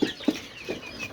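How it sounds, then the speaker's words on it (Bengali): Chickens on a poultry farm giving a few short, close clucks in quick succession, with no talk. "এখানে দেখতে পারতেছেন ওই বেসের 30টা মুরগি এখনো এখানে রয়ে গেছে"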